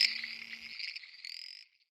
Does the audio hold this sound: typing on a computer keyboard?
no